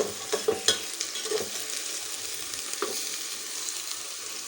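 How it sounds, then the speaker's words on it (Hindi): Okra (bhindi) frying in a pan, a soft steady sizzle with a few light scraping stirs near the start, close and alone without speech. "और भिंडी फ्राई हो गई, इसको निकाल रही हूँ।"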